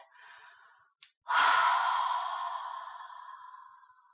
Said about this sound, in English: Now exhale out through your mouth.